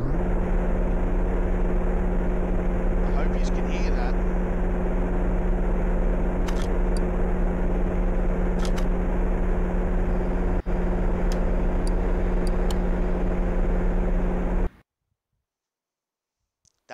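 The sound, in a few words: car engine running in the video game Car Mechanic Simulator 2018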